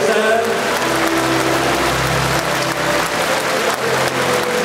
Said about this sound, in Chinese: 感谢感恩的掌声。